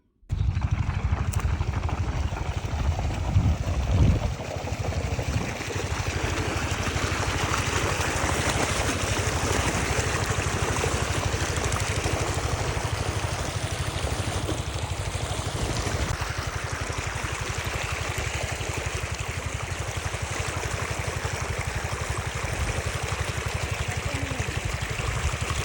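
Water gushing steadily from an engine-pumped pipe into a paddy nursery bed, a continuous loud rushing flow with a faint engine drone underneath, constant for the whole stretch after a brief start.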